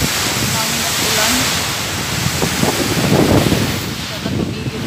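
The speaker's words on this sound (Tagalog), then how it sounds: "Hangin at ulan." Strong wind and rain during a flood roar as a constant, dense rush of noise close to the microphone, with gusts buffeting it and a few faint voices underneath.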